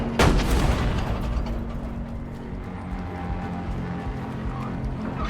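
A tank fires in a video game, one loud booming blast near the start, followed by a long rumbling decay under battle noise.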